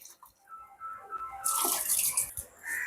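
Water poured into a pot for cooking noodles, a quiet start that turns into a louder splashing stream halfway through, close by, with no talk.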